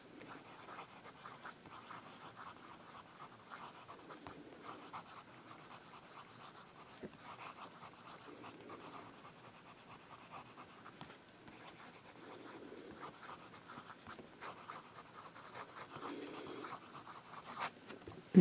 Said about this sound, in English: Now we'll do some fast writing.